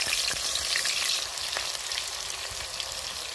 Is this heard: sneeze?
no